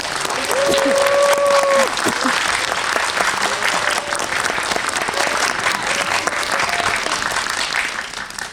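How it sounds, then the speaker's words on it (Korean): Audience applause at a Korean film screening Q&A welcoming director Kwak Kyung-taek and actor Joo Won of the film Firefighters, a steady dense clapping throughout with a brief voice near the start. "큰 박수 부탁드립니다."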